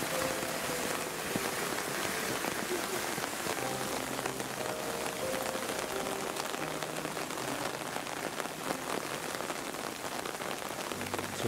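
Steady rain patters on a rose garden, a dense, even hiss of drops on leaves and surfaces, continuous and fairly soft, with no voices.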